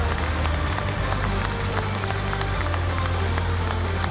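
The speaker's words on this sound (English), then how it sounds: "Got a warm applause here for the crowd as well." Warm applause from a crowd at a youth speed climbing world championship finals in Noumea, steady dense clapping mixed with a loud low rumble of an arena crowd throughout.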